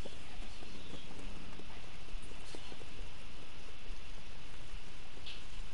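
Horse hooves clip-clop steadily in the Red Dead Redemption 2 video game, a faint continuous patter beneath a dense outdoor ambience with no speech.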